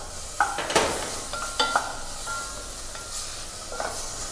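Vegetables and tomatoes for minestrone soup sizzle steadily in a pan, a constant close hiss broken by a few scraping stirs and clinks of a utensil against the pan.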